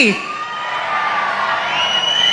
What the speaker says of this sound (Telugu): గట్టిగా చప్పట్లతోటి మనం అభినందనలు తెలియజేయాలి